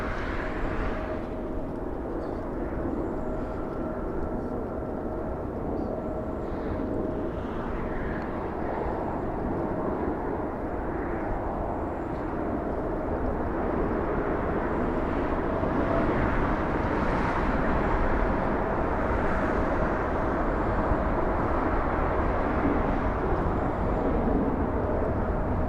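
Southwest Airlines airliner departing LAX for Sacramento, California: a long, steady jet roar with low rumble that builds gradually over the whole span, heard alone without talk.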